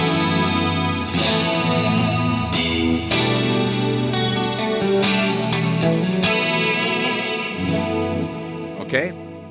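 Clean electric guitar through a Fractal studio compressor, with chiming chords and picked notes that ring out with a chorus-like shimmer, played close and steady, with a sharp click near the end.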